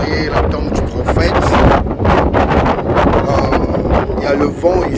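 Strong wind gusts buffet the microphone at a graveside in the United States, a loud continuous roar with rustling under a voice speaking throughout.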